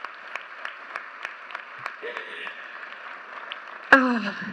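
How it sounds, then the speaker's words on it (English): Scattered claps tap out in a loose rhythm under a person talking at a commencement ceremony, then a brief louder burst near the end. "we can clap for that"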